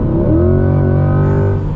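A 2023 Chevrolet Corvette Stingray engine revs close by, its deep harmonic growl rising and holding steady, loud and throaty for a couple of seconds.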